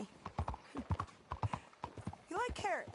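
Horse hooves clip-clop in a quick uneven rhythm close by in Red Dead Redemption 2, then a loud whinny rises and falls near the end.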